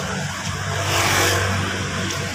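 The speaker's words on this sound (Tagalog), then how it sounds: "Ayan, mga sasakyan." Cars in traffic make a low, constant road and engine drone, with one vehicle swelling slightly louder as it passes nearby.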